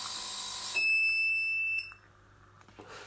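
A household appliance finishing its cycle gives off a loud, shrill electronic alarm tone that holds for about a second and then cuts off, leaving a quiet background.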